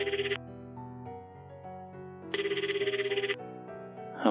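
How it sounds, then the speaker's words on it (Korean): A telephone rings on a call placed home, with two bursts of warbling ring tone separated by a pause over soft background music. "통화 내역을 누른 다음 집으로 전화를 건다"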